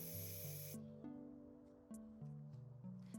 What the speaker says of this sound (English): I found this really nice metallic gold spray paint in the shed